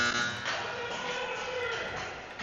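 An end-of-period buzzer sounds at a youth ice hockey semifinal, a loud, steady, sustained electronic tone over faint arena noise.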